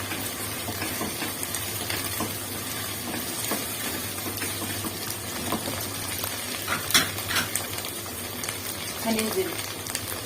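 Tomato paste goes into a pot of onions fried golden, with a steady close sizzle and hiss of frying throughout and faint stirring and clinks near the end.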